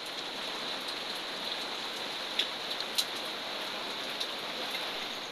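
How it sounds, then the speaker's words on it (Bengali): Steady rain falls outside a home on a rainy morning, a soft continuous hiss with a few sharper drips and taps standing out, even and moderately distant. "আজকের ভিডিও বৃষ্টি দিয়ে শুরু করা হলো। আজকে সকাল থেকে বৃষ্টি শুরু হয়েছে"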